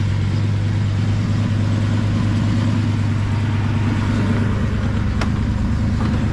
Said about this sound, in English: Exhaust sounds awesome.